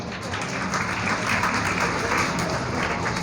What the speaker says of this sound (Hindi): आप सबकी भरपूर तालियां मोहम्मद अहमद समर